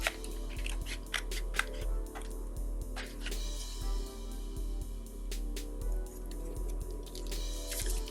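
Scissors snip through paper pieces in a series of short, sharp cuts with irregular rhythm, close and fairly quiet over a low steady background hum.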